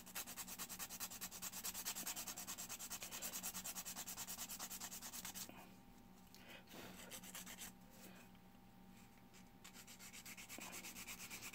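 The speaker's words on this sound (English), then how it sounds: "Let me sand this down." Sandpaper rubbing steadily against the base of a miniature figure, a continuous close scratchy rasp that briefly thins and pauses twice midway before resuming.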